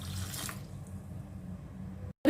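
Water pours onto rice in a bowl for soaking, a steady close splashing stream that fades to a quiet trickle before stopping, followed by a brief clunk.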